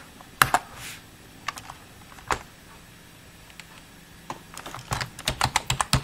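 Typing on a computer keyboard while entering Raspberry Pi 4 GPIO commands in Python: scattered close key clicks, then a quick burst of rapid keystrokes at the end.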